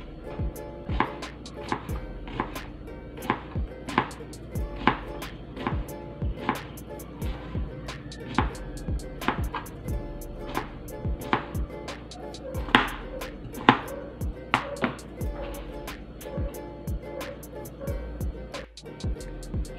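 A knife chops ingredients for kinilaw with dried anchovies, giving sharp, irregular taps on a board, close and distinct, over a steady low background hum.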